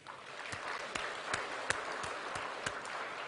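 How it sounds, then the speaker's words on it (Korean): A church congregation applauds their pastor during a Sunday sermon: a fairly quiet, even wash of many hands clapping, with occasional louder individual claps near the microphone, sustained and free of voices. "우리 김양재 목사님 멋지다고 박수 한번 해줘요"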